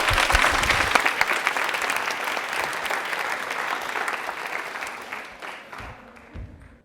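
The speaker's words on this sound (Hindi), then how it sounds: "तालियां एक बार हिमानी के लिए जोरदार बजा दीजिए भाई" A studio audience at a Rajasthani quiz show applauds warmly in a dense, steady wash of clapping that gradually thins and fades toward the end.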